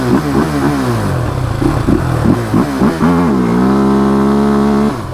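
A Can-Am DS450 ATV engine is held against its rev limiter, bouncing in loud, rapid stuttering bursts, then settling into a steadier high-revving drone close to the listener.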